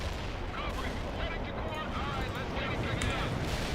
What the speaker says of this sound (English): Artillery is firing grenades at the target zone.